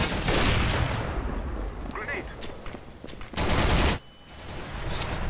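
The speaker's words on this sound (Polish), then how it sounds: "Kto do mnie strzela?" Rapid gunfire bursts in the video game CS:GO on the Dust 2 map, loud and dense with a heavy volley near the end, while players talk over the shooting.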